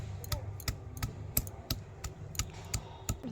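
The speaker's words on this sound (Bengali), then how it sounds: "প্রথমে আদাটাকে থেতো করে নিচ্ছি" Fresh ginger is pounded by hand for a spice paste for a spicy mutton curry: about ten sharp, close thuds land in a quick, fairly even rhythm, roughly three per second, with no talking over them.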